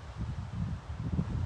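Wind gusts batter the microphone outdoors on an exposed wilderness spot, producing a steady low, buffeting rumble that swells and dips without any voices over it.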